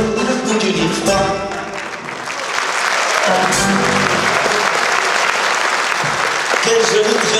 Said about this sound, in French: C'est pour vous, ces applaudissements.